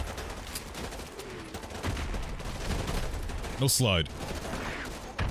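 Gunfire in Modern Warfare 2 on PS4 at Veteran difficulty: a dense run of sharp shots and bursts running throughout, with a voice speaking briefly over the shooting.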